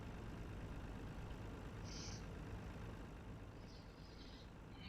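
In Farming Simulator 19, a gray International truck's engine gives a steady low rumble throughout, even and continuous, with a few faint hissing chirps above it and no talk.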